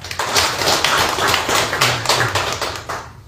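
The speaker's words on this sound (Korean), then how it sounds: "감사의 마음으로 큰 박수를 부탁드리겠습니다." An audience at an academic conference in Namwon claps steadily, filling the room with dense, even applause that tapers off at the end.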